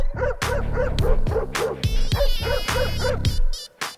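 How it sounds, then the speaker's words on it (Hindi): A dog in a house, from a comedy film scene, barks loudly and close by in a rapid series of sharp barks and yips, with short whimpers near the end. "इस घर में एक कुत्ता है"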